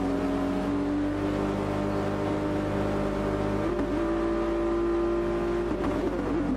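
Race cars in Gran Turismo Sport rev at the start of an online championship race on the Dragon Trail circuit, a dense, constant engine drone with pitch steps as gears change, loud and without voices.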